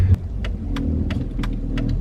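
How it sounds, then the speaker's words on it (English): A Mercedes S550 drives along while its loose exhaust gives off a rattle, heard as repeated brief metallic taps roughly every third of a second over the car's steady low engine rumble. "it does have an exhaust rattle that I forgot to mention that I also need to fix"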